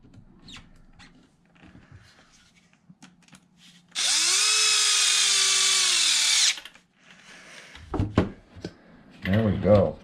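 A power drill tightens screws on an Arrma Kraton EXB RC car differential, one loud sustained whir rising in pitch for about two and a half seconds, framed by small handling clicks and rattles before and after.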